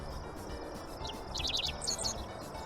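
A dickcissel sings a short series of high, clipped chirping notes in quick bursts, moderately close, over a steady hum of outdoor background noise and insect-like hiss, with no voices.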